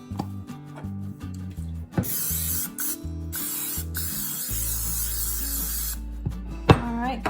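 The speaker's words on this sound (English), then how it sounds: "All right, cooking spray going in." Cooking spray hisses into a baking dish in a home kitchen, several bursts of close, steady aerosol spray over a soft tonal background, with no talking.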